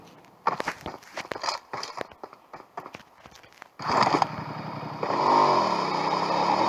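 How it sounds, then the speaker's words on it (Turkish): A motorcycle engine in PUBG Mobile starts up after a run of quick footsteps, then idles and revs in a loud steady drone that rises in pitch toward the end. "Motor da o kadar tehlikeli bir araç ki böyle arkadaşlar."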